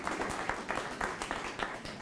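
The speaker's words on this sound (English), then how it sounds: "So round of applause." Audience applause at a talk event with game wardens as guests, a soft, modest round of clapping from a small crowd, fairly distant and even, with no voices over it.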